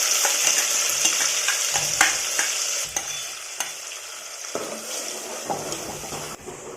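Ginger-garlic paste and a blended onion-tomato paste sizzle in a pan for a spicy village-style mutton curry, with a steady fry hiss broken by repeated spoon scrapes and clacks against the pan.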